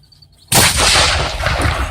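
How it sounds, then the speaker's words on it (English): A ceremonial gun at Perry's Victory memorial is set off by a lit fuse, a single sudden loud boom close by that rolls into a long fading rumble. "Starts the gun! There's the fuse right there."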